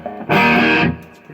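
Electric guitar through a 1985 Marshall 5210 solid-state amp, one loud buzzy distorted chord held for about half a second, then cut off.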